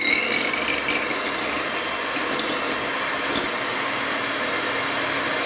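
An electric beater whirs steadily through eggs for a carrot and dates cake batter, a continuous close mechanical buzz with faint scraping against the bowl, no voices.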